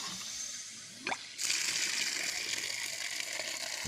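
A water hydrant at a barn: a drip and a soft plop, then water gushes out into a steady, close rush that keeps going.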